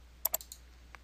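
Computer mouse clicking in Excel: a quick close double click followed by a couple of softer clicks and one last faint click, crisp and isolated over near silence.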